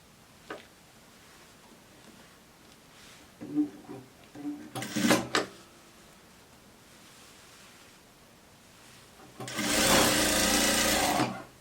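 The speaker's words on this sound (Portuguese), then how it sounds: "passa a costura em cima de novo" Sewing machine stitching a seam on a coat, first a few scattered clicks and short handling noises, then a loud steady run of stitching near the end.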